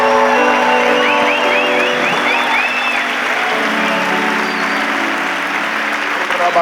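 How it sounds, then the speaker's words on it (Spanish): A large crowd at a church conference applauds Spanish attendees: loud sustained clapping mixed with cheering, whoops and whistles, with sustained musical tones underneath. "damos un aplauso a los españoles acá presentes"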